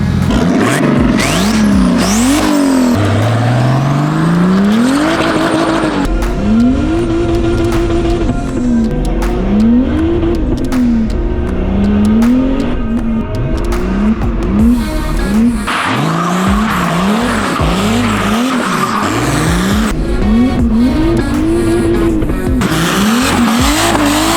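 A tuned Volvo making about 500 hp on a high-boost map accelerates hard, its engine note climbing and dropping through repeated loud revving pulls with tire squeal, close and dominant throughout.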